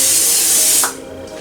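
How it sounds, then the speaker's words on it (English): A loud continuous hiss of cooking spray coating the bottom of a lasagna baking dish, close and alone for under a second before cutting off into quieter room tone. "first thing you need to do here, you need cooking spray"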